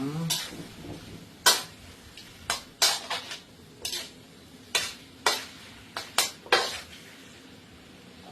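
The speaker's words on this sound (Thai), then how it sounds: "ผมผัดเครื่องใน" Offal stir-fried with holy basil in a pan, a low sizzle under repeated sharp metal spatula clanks and scrapes against the pan, coming in irregular bursts, close and fairly loud.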